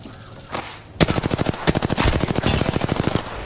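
Rapid automatic gunfire in a video game, a fast even burst of close, loud shots rattling for over two seconds after a quieter lead-in, with no talking.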